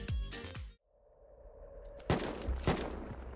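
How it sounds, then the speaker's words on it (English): Gunfire from a Rusturned server in the game Unturned, several sharp shots bursting out after a quiet stretch, with a low synthetic drone running underneath. "Shots outside."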